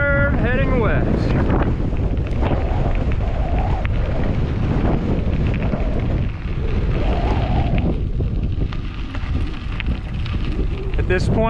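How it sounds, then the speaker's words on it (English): Strong crosswind buffeting the microphone on a gravel bike ride across open country, a loud continuous roar and rumble throughout, with a voice faintly underneath. "Now, as windy as it is,"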